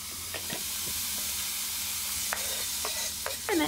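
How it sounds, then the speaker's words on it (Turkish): About 400 grams of minced meat browns in a pan over medium heat, giving a steady close sizzle with occasional sharper clicks and scrapes as it is stirred; no one speaks. "Yaklaşık 400 gram kadar kıymayı tavaya aldım ve kavurmaya başlıyorum."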